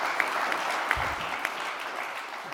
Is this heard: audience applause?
yes